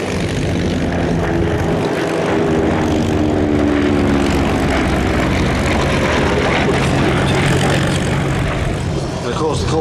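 A Corsair propeller fighter flies past at the Flying Legends Airshow 2023, its piston engine a loud, sustained drone with shifting tone, and a commentator talks over the noise.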